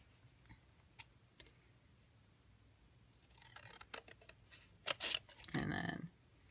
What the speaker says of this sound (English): I just wanted to cut that out with my big scissors